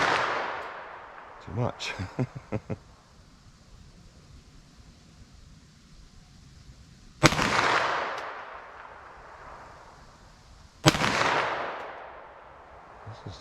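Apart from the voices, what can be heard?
357 Sig pistol gunshots into ballistic gel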